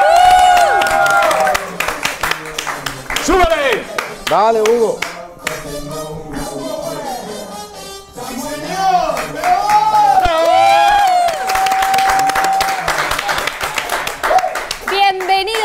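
Studio audience of a television talk show claps and cheers as a young DJ guest is welcomed, loud rhythmic clapping with shouts from the crowd while a host talks and calls out over it, and music-like tones in the background.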